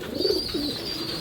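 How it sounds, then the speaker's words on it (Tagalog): Racing pigeons kept in a loft coo softly in two or three low, rolling calls, fairly close, over a faint steady background hiss. "Okay, update sa mga ibon natin."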